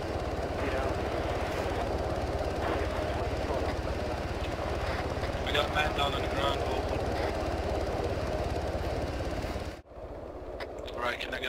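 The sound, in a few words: helicopter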